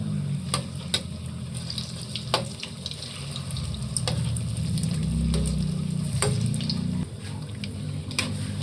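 Meatballs fry in a pan of hot oil, giving a steady sizzle with occasional sharp clicks and scrapes as they are turned and stirred, close and constant throughout.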